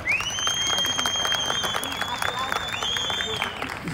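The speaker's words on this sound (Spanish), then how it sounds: "Si usted lo quiere ganador, dele fuerte el aplauso." At a horse tournament, a crowd gives a continuous spatter of applause at moderate level, with a sustained whistle-like tone running over it and faint voices mixed in.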